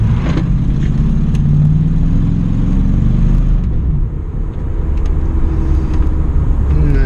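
A second-generation Pontiac Formula Firebird's engine pulls under light throttle from inside the cabin, a steady low rumble that holds level for the whole stretch with a brief dip midway.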